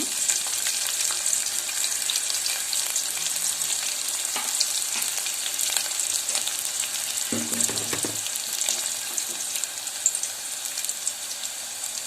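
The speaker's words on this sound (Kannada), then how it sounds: "ಈರುಳ್ಳಿ ಎಣ್ಣೆಯಲ್ಲಿ ಚೆನ್ನಾಗಿ ಬೆಂದ ನಂತರ ಉಳಿದ ಸಾಮಗ್ರಿಗಳನ್ನು ಸೇರಿಸೋಣ" Onion fries in oil for a ridge gourd and toor dal sambar, giving a continuous close sizzle with occasional stirring scrapes and no speech.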